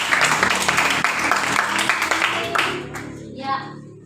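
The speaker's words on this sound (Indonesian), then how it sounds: "tepuk tangan untuk semua" A class of young children claps hands together, loud and dense, over several seconds, then the clapping tapers off near the end, with some voices mixed in.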